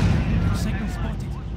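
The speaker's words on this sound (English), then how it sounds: "Next barrage imminent. Incoming barrage." Artillery barrage in the Company of Heroes: Opposing Fronts video game, a heavy low rumble of shellfire and blasts under loud game voice lines.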